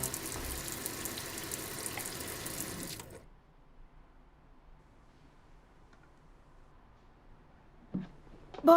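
Water pours steadily into a kitchen sink drain as it is cleared, a dense rushing flow for about three seconds that then cuts off, leaving near silence broken by a faint clunk at the end.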